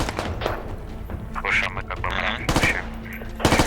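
Gunfire in the military shooter game Squad, bursts of rifle and machine-gun shots cracking at mid distance over a low engine-like drone, with brief player voices among them.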